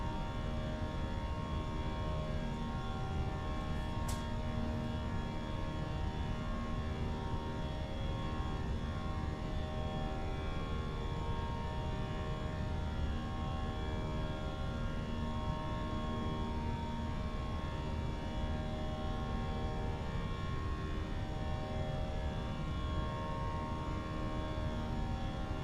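Airbus A320 engines at climb thrust in Microsoft Flight Simulator 2020, a steady, even roar that holds constant for the whole stretch with no voices.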